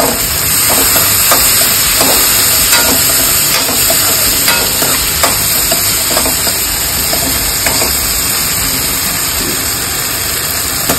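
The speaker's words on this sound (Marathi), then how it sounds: "मंद गॅसवर आपण ते आता शिजवून घेणार आहोत।" Shevla, a wild vegetable, cooks in a pan over a low gas flame. A loud, steady frying hiss runs throughout, with sporadic scraping clicks as it is stirred, and no voices are heard.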